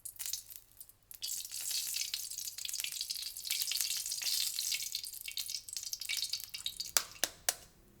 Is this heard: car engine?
no